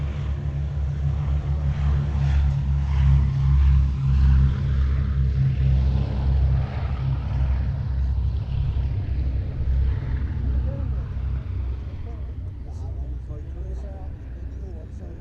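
A Boeing B-17 bomber rolls along the runway at the Duxford Battle of Britain air show, its piston engines giving a heavy, droning rumble that holds strong before slowly easing and thinning toward the end, with a commentator's voice running over it.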